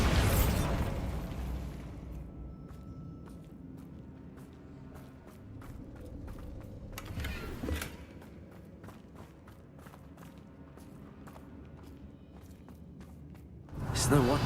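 The Bombarda blasting spell goes off in Hogwarts Legacy with a loud burst of explosive noise, then crunching footsteps and clicking debris. A second blast erupts at the end, and a voice is heard speaking.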